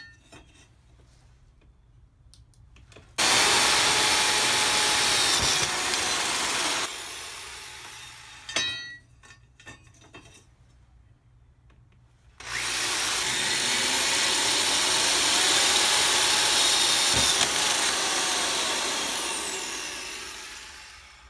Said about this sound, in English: I drilled 2 holes on either end of all of them